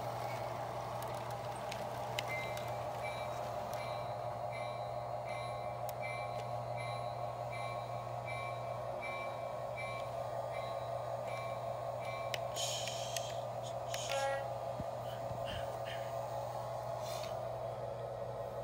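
Train number 87, the Lupine Loop Flyer, on track one out of Chicago, gives a faint, continuous rumbling drone with occasional metallic squeaks and clanks toward the end, with no voices.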